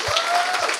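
Audience applause at a stand-up comedy show, a dense, steady burst of clapping that fills the moment without pause.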